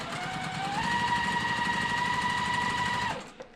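A sewing machine stitches quilt pieces together with a steady, buzzing whir that rises slightly in pitch, holds for a few seconds, then stops, followed by a small click.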